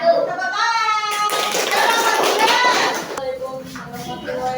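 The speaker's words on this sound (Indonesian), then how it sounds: "Tepuk tangan." A group of children in a classroom clap their hands together for about two seconds, a brisk burst of clapping framed by young voices talking before and after.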